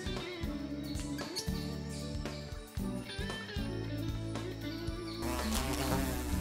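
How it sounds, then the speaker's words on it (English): A large female orchid bee of the genus Eulema buzzes steadily in the Costa Rican wild, a faint, continuous droning hum with no voices. "this big mama is actually an orchid bee too, of the genus Eulema"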